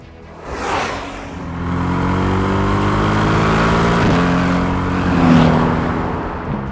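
A Mercedes-AMG GT R supercar driving on a high-speed track, its engine droning loud and close, rising in pitch and swelling, dipping briefly around midway, then surging again as it accelerates.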